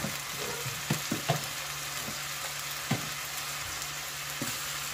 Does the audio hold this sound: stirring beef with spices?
yes